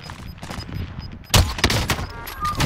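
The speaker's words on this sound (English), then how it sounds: "receiving hostile fire." Gunfire crackles in a Call of Duty: Modern Warfare match, with light distant shots giving way to a loud, close burst of rapid rounds.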